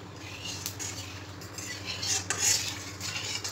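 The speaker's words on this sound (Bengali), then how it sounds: "দেখে নাও আমি কিভাবে চিকেন কষা করি।" Chicken kosha stir-fried in a pan at home, a metal spatula scraping and clinking steadily against the pan over a faint background sizzle.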